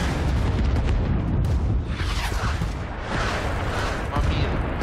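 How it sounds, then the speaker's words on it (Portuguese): An anti-personnel mine going off in Rising Storm Vietnam, part of a loud continuous battle din of booms and blasts, with dense rumbling explosions filling the whole stretch and no quiet gaps. "Uma mina antipessoal, eu acho."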